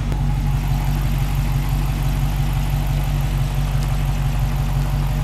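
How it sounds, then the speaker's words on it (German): A 2018 Dodge Challenger R/T's 5.7-litre Hemi V8 idles close by, a loud, steady low burble with an even pulsing rhythm and no talk. "Der Hemi-Motor."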